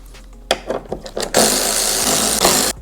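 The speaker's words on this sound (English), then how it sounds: "Now remove the 3 T25 bolts that's right here in this little bracket on this side" A power driver works the T25 bolts out of a Road Glide windshield bracket, giving a few short bursts of clicks and then a sustained loud whirring that runs about a second and a half.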